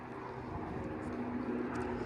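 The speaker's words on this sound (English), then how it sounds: "Oh, there's a plane taking off." A distant airplane takes off over a snowy Toronto waterfront along Queens Quay West, a low, steady engine rumble faint under wind and outdoor ambience.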